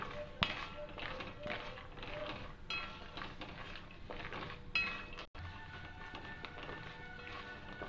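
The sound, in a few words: stirring almonds roasting in a pan on low flame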